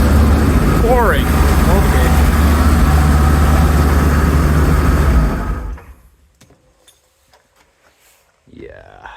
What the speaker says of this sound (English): the engine runs and it actually sounds really smooth